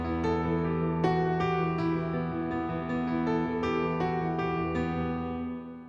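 Lily White piano played dry without compression, a sequence of struck chords and notes ringing out and decaying, close and fairly soft with no talking.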